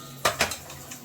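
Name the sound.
closing a tiffin box lid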